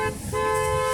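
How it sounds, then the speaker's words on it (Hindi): A car horn blares in Beijing street traffic, one sustained, loud, close honk that cuts in after a brief dip and holds steady over the background road noise. "हॉर्न"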